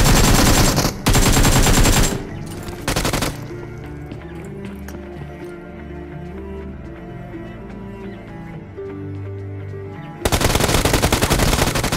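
Gunfire in a mobile battle royale game, heavy automatic bursts at the start and end with quieter game sounds and music between them.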